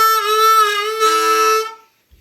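Harmonica sounding the 1 and 2 draw holes together as one sustained chord, played alone and close for a little under two seconds before fading to silence, from a song.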